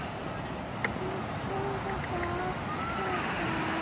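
Ocean waves wash steadily onto Chukoh beach in South Kaur, Bengkulu, in the late afternoon, a continuous broad surf roar with faint voices and tonal sounds drifting over it.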